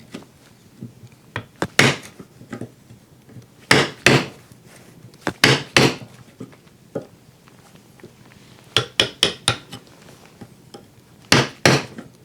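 Chisel strikes cutting through wood fibres while shaping a Japanese carpentry joint, a kama-tsugi splice with collar; sharp woody knocks come close and loud in short clustered bursts with gaps between.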